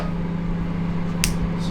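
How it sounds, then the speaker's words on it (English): A microwave oven runs while cooking cream of rice made with cold water, giving a steady, even mechanical hum throughout with a brief brighter whoosh near the end. "Put it in the microwave for a couple of minutes."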